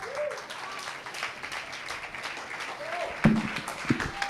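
Audience applause at a business seminar on building a competitive edge, steady and moderate, with a brief loud burst near the end and faint voices mixed in.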